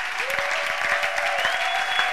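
A church congregation claps in dense, sustained applause that fills the whole short moment, with a held musical tone ringing faintly underneath.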